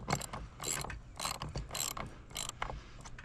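A lag bolt being tightened into a Starlink Gen 3 wall mount with a ratcheting tool, giving several short bursts of rapid mechanical clicking, close and fairly quiet.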